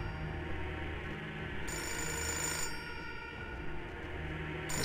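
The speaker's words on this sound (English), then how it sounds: "I just need to answer the telephone." Old-style telephone bell ringing in the video game Indigo Prophecy, a steady electric ring with high bright bursts coming and going across the clip over a low ambient bed, with no talking.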